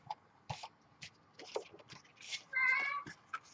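A hungry pet cat meows several times in short, scattered calls and ends with one longer, drawn-out meow, close and fairly quiet amid soft household noises.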